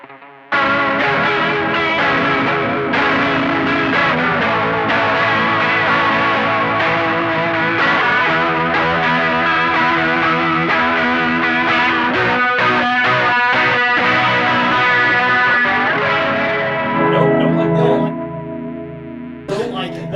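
Electric guitar played through a chorus modulation pedal feeding a distortion effect, ringing sustained chords and single notes with a shimmering, gritty, loud tone that swells toward the end.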